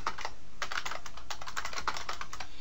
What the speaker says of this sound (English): maybe we'll type Rhode Island Red here